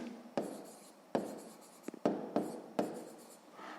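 A pen writes on paper in a math lesson, scratching out several short strokes with distinct sharp onsets, close and fairly quiet, with no talking.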